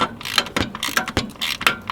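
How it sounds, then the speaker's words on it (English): A ratchet works a bolt loose during removal of a Subaru STI engine, giving a close, loud burst of quick metallic clicks in uneven short bursts. "As I'm pulling that bolt out, thank God it's already separating."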